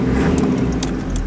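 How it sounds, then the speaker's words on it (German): A car that will not switch off keeps idling after its key is removed, a steady close low engine drone with a few faint metallic clinks over it and no voices. "Ich ziehe den Schlüssel ab. Auto läuft weiter."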